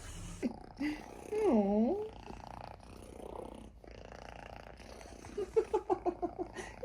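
A small kitten purrs close by in a short rumbling stretch, while someone talks to it softly in Portuguese and a few higher mews or squeaks break through near the end.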